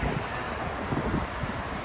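Steady warm wind rushing and buffeting against the microphone outdoors in Lisbon, a continuous low roar with no voices.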